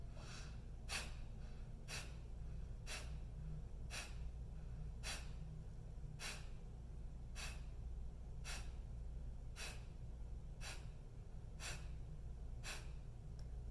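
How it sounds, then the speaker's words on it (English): Forceful Kapalbhati pranayama breathing sounds as a steady series of sharp, evenly spaced nasal exhalations, roughly one per second, over a low constant hum in a quiet room. "So inhale and exhale,"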